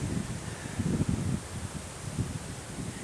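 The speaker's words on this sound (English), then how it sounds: "Now we're getting into the full blast of the wind. How does it sound? It's pretty breezy." Strong outdoor wind in Christchurch buffets the microphone, a steady rumbling roar with rustling gusts that swell and ease over a few seconds, with no one speaking.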